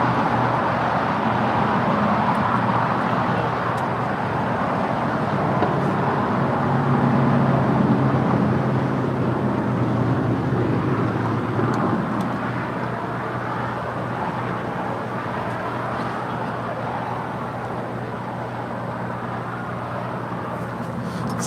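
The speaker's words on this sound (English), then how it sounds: "It's an Airbus A321." JetBlue Airbus A321 arriving at LAX, a broad steady jet roar that swells slightly and then holds, heard from a distance on an open, sunny afternoon with no talking.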